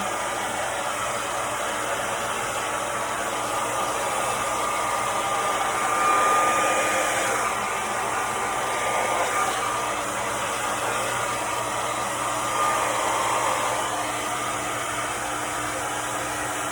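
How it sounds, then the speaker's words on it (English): A hair dryer blows steadily as it dries hair, a loud, continuous whooshing hum close by that lasts throughout with slight changes as it moves. "I didn't dry the front before, so I'm going to dry it now."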